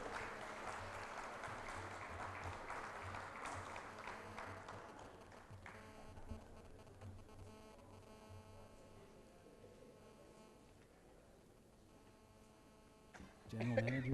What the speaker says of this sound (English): a round of applause from Shanghai, Wan Kang Kiao, number 3, Power Generation